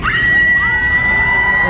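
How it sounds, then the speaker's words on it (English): A sustained high-pitched scream from a performer playing a princess in a theme park stunt show at Universal Studios Orlando, held loud and steady for over a second over a noisy crowd. "And the princess screams!"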